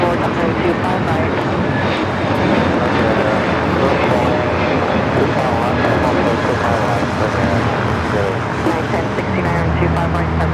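A jet airliner takes off from runway 25 right at LAX, a loud continuous engine roar filling the whole stretch at steady intensity while a voice talks over it.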